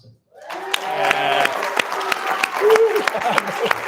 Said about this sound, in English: Somebody's booing.